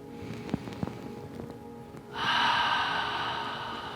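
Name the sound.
long deep cleansing breath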